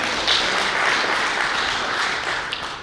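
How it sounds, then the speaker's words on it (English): Applause from an audience at a company team festival for an internet service provider in South Sudan, a dense steady wash of clapping that carries evenly throughout and eases slightly near the end. "can you have a round of applause for all the managers?"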